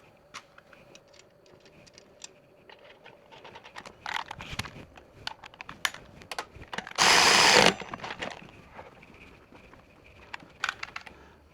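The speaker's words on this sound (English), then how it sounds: "I'm going to tighten the axle nuts on both sides, making sure they're nice and firm." Axle nuts on a Sobowo fat-tire electric tricycle being tightened: scattered close ticks and metallic clicks, then a short loud burst of a power tool whirring for about a second, followed by more light clicks.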